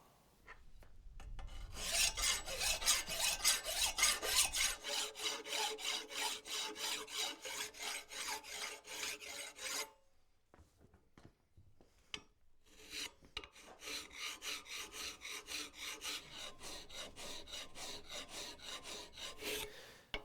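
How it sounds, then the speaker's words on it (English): A hand file rasps steadily in long, even rhythmic strokes as it is drawn across a wrought iron door bolt, stopping for a couple of seconds midway before the scraping resumes. "I'm just going to draw file this down"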